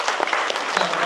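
An audience at a Carnatic music concert in Germany claps loudly and close by for a brief moment, a dense burst of applause with no voices over it.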